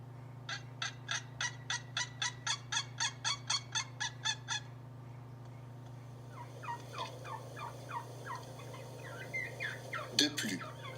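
A wild turkey gobbles in a quick, evenly spaced series of rattling calls, followed by softer, more distant gobbling and clucking over a steady low hum outdoors.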